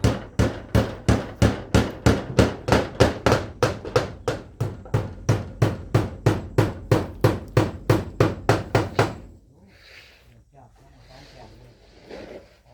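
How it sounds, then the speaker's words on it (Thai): Nails being driven by hand with hammers during house construction, a fast steady run of about thirty sharp, loud blows over nine seconds, then stopping as faint voices and quiet background continue. "บอกเลย ตอกพร้อมกันเลย"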